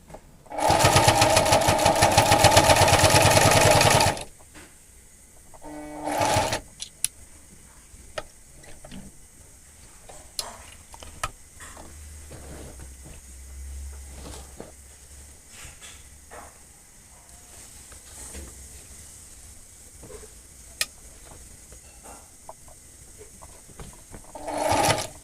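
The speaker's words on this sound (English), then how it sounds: "Using my zigzag machine." Zigzag sewing machine stitching bartacks on the back pockets of jeans, a loud dense mechanical whirr for about four seconds, then a brief second burst, followed by quieter scattered clicks and handling noises.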